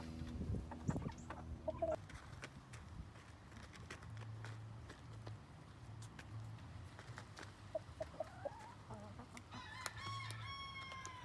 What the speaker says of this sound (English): So this is my rooster, guys. He's a Rhode Island Red.